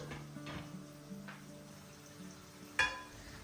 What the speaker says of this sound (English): In a pan, I have added 4 to 5 tablespoons of oil, then added the chopped onions.